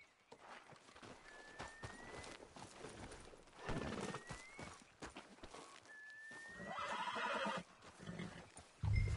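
Horse in the Red Dead Redemption 2 video game whinnying three times with rising squeals, over scattered clip-clop of hooves and faint background shuffling, fairly quiet overall.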